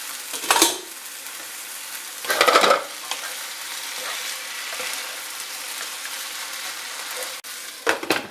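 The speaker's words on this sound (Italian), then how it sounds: "Di tanto in tanto mescoliamo." Italian sausage frying in a pan, heard as a steady low sizzle broken by a few close bursts of spoon stirring and scraping against the pan.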